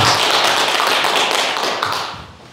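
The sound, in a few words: audience applause at a lecture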